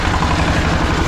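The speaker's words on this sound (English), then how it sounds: "That is a tractor with a generator on the front in order to make it go." A custom-built tractor in Kathmandu, Nepal, driven by a generator mounted on its front, runs with a steady, loud low engine drone and rattling vibration throughout, with no talk over it.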